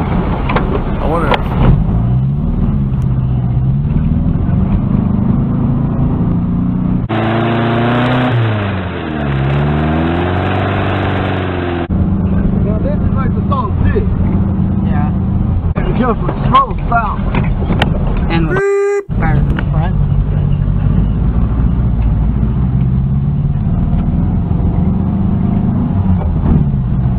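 An old Volkswagen Beetle drives along a paved road in the desert near Chiriaco Summit, with a steady engine drone and road noise from inside the car. There is a brief gear change and some varying revs, and voices talk over the driving.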